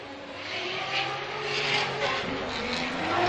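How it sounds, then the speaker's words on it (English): Rotary-engined Formula Drift competition car lifting off the throttle into a final radius turn during qualifying in New Jersey, a sustained buzzing engine roar whose pitch wavers and eases, heard from a distance over steady crowd and track ambience. "Really working the car, and you can hear him lifting considerably into that final radius turn, and Mohan shuts her down."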